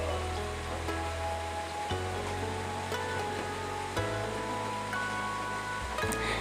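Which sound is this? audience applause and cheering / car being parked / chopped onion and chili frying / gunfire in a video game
chopped onion and chili frying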